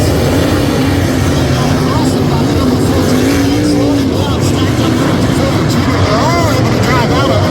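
Sprint cars roar around a dirt oval at Gas City I69 Speedway in Indiana, a loud, continuous engine howl with pitch swells as cars pass and accelerate, filling the whole stretch without a break.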